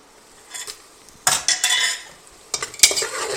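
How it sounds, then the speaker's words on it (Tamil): Onions and masala spices stirred and fried in a pan for a vegan protein biryani: a spoon scrapes and clatters against the pan in two separate bursts over a faint sizzle, with no talking. "மசாலா பொருள் போட்ட பிறகு வெங்காயம் நல்லா ப்ரௌனிஷாக வதங்குற வரைக்கும் நல்லா கிளறி விட்டுட்டே இருங்க"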